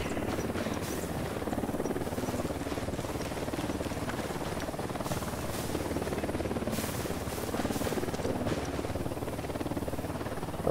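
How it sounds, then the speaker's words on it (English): A helicopter in Ghost Recon Wildlands near Media Luna, its continuous rotor thrum and whine holding steady throughout, fairly close, with a few brief sharp noises laid over it. "Chopper inbound."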